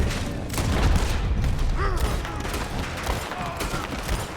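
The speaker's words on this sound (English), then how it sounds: "That's some fancy shooting there, Arthur." Gunfire from the video game Red Dead Redemption 2, a dense fusillade of shots and booms that holds fairly loud throughout, with a voice talking over parts of it.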